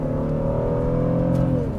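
A 2026 Honda Passport's 3.5-liter V6 revs steadily, its smooth rising harmonic drone sustained and fairly loud, with a slight climb in pitch near the end and no talking over it.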